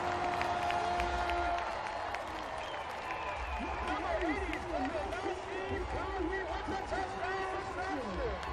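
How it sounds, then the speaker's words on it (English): A homecoming football crowd erupts over a touchdown, sustained loud cheering and roar filling the stadium, with a commentator talking over it throughout. "The Eagles now pull in front to the jubilation of this homecoming crowd"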